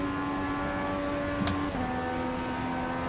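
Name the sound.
1934 Ford Coupe engine in iRacing video game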